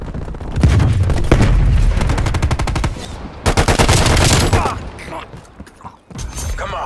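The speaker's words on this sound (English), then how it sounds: "Stun grenade out." Gunfire in Call of Duty: Black Ops Cold War rattles in rapid automatic bursts with sharp shots and a concussive stun grenade blast, loud and close, with brief pauses between volleys.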